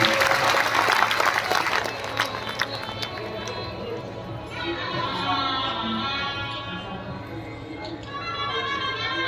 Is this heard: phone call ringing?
no